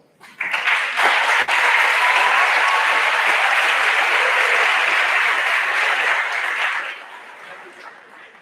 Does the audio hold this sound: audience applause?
yes